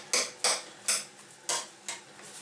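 Cutlery clinks against a dish while salad ingredients are mixed, five or six sharp, evenly spaced taps close by with no talking.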